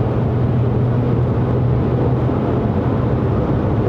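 A 2009 Audi Q5 2.0 TFSI Quattro accelerating, heard from inside the cabin as a steady, dense low engine and road roar with no clear rise in pitch, continuous and loud, no speech.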